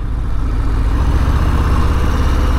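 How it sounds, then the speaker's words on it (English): A 2020 Harley-Davidson Breakout 114 V-twin sits idling nearby, a steady, loud, deep rumble with a continuous low throb and no voices. "the engine then has got loads of shove and it sounds absolutely beautiful as well"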